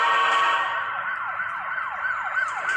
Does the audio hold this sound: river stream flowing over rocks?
no